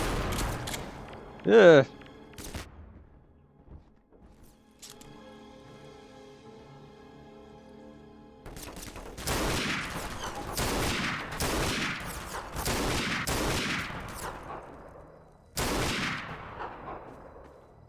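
Gunfire in the video game Half-Life 2: Episode 3 comes as a string of sharp loud bursts in the second half, one burst after a short pause, with a grunt and quieter game sounds earlier.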